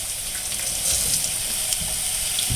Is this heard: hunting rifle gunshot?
no